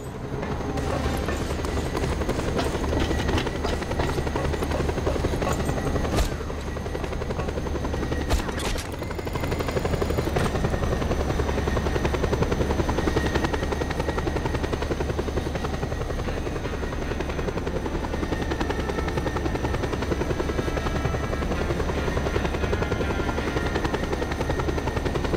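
A helicopter in Just Cause 2 flies with a loud, steady rotor drone and whine that holds throughout, broken by a brief burst of clatter near the middle.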